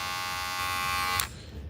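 An updated Magic Clip hair clipper with a new motor runs with a steady close-up electric buzz and hum, then cuts off abruptly after about a second, leaving faint room noise.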